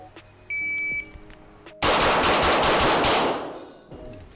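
A JP Enterprises GMR-15 rifle fires a rapid string of loud, close shots for about two seconds, the blasts running together before fading, with a short electronic beep beforehand.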